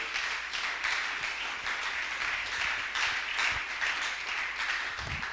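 A church congregation applauding, steady sustained clapping from many hands filling the room for several seconds, even and continuous without voices over it.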